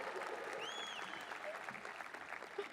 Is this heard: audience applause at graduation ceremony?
yes